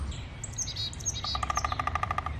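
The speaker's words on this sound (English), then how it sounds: "There's a woodpecker up there." A bird calls outdoors, likely a woodpecker: scattered high chirps, then a fast, even series of sharp repeated notes, fairly clear over a low background hum.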